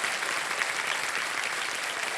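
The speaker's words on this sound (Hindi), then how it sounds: "एक बार फिर तालियों के साथ शरद जी आपका स्वागत" The studio audience of the Kaun Banega Crorepati Junior quiz show breaks into continuous, even applause. It is a thick, steady roar of many hands, close and sustained throughout.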